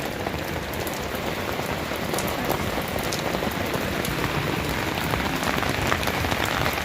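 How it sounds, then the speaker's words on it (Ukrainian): Steady rain falls outdoors in the countryside, a dense, even patter of drops hitting surfaces that stays moderately loud and unbroken throughout, with no voices. "Іде у нас дощ."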